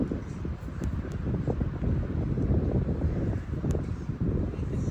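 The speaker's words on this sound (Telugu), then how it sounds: "వా, భలే విండ్ వస్తుంది." Wind gusting outdoors on a summer day out in Canada, a steady broad rush with low buffeting against the microphone that holds for the whole stretch, close and fairly strong, with no one talking over it.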